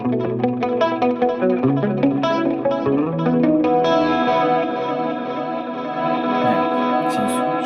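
An electric guitar plays a rhythmic chord and note pattern through a Fractal Audio 80's preset, with chorus, delay and a stereo panning effect, loud and close, no voice over it.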